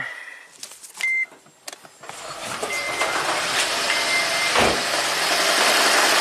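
A Toyota Prius with a suspected head gasket fault beeps, cranks, and then catches into a loud, rough, uneven engine roar that keeps running steadily close by.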